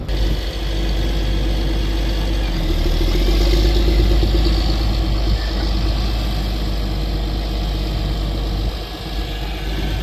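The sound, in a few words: tractor engine idling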